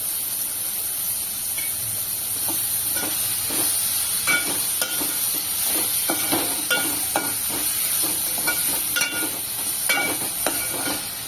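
Salted tomatoes sauté in a pan for a bombil masala, a bright steady sizzle with repeated clinks and scrapes of stirring, close and fairly loud, with no voices.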